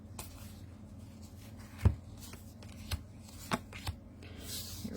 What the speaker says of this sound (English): I want to put those other 2 cards back in.